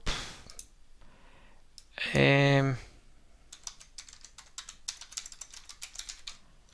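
Close, light clicking of a computer keyboard as a username and password are typed, in quick uneven taps interrupted by a short tonal beep before the typing resumes.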